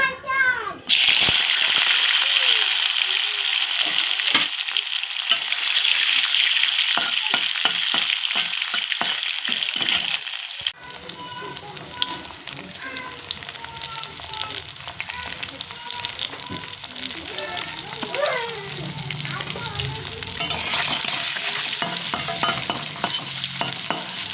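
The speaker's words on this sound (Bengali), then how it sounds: "এবার আমি শুকটিগুলো ভেজে নেব।" Dried fish dropped into hot oil in a pan, bursting into a loud, close, crackling sizzle that holds steady and bubbles on with occasional stirring and faint clinks, a voice briefly speaking over it.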